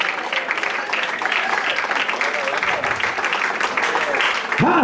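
A church congregation claps together in a sustained wash of applause, with voices mixed in beneath the steady clapping.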